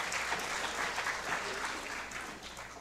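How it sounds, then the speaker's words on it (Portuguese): An audience at a comedy show breaks into lively clapping that swells and then gradually tapers off, with a few cheers mixed in. "Um aplauso!"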